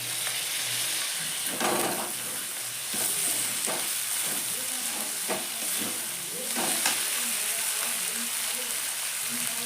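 Chopped onion and garlic frying in a pan, a bright continuous sizzle with repeated stirring scrapes roughly every second or two, close and fairly loud, with little or no talk.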